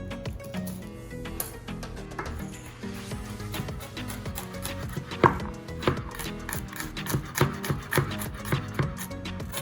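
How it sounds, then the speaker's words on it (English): A knife chops peeled garlic on a board for a pizza, a run of quick, close, fairly even taps that pick up pace and strength toward the end. "so right now all I have to do is chop them up also"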